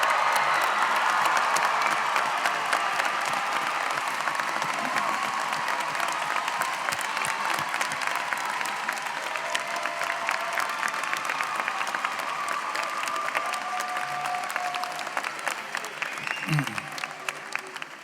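Commencement audience applauding first-generation graduates as they stand, sustained dense clapping that fills the whole stretch, steady and loud with a slight easing toward the end.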